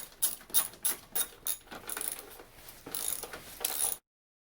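Ratchet tightening bolts on a strut for an 8th or 9th generation Impala: rapid close clicking pawl strokes in short bursts, then a longer ratcheting run, fairly quiet with no talking, ending in sudden silence.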